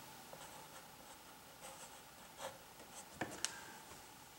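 A pen scratches letters into a Wordoku letter puzzle on paper, with soft, quiet strokes in short bursts and two sharper taps near the end, with no speech.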